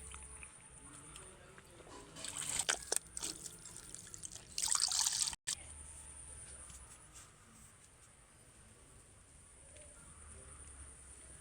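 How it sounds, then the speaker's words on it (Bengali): A handkerchief soaked in water drips and trickles, with a couple of short splashy bursts close by followed by a quiet, faint tail. "জলের মধ্যে রুমালটাকে ভিজিয়ে নেব"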